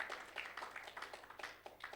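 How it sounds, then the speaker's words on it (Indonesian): A church congregation claps along in a quick, uneven rhythm during a youth Sunday service, with bright hand claps fairly close and moderately loud. "Tepuk tangan dong buat Tuhan Yesus kita yang keren."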